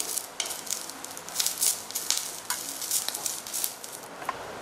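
Curry leaves sautéed over low heat in a pan for podi, a bright close crackling sizzle with rustling bursts as the leaves are stirred and tossed.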